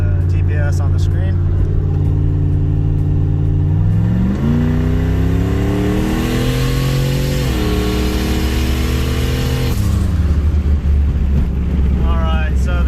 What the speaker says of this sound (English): I'm going to roll into the throttle, show you the boost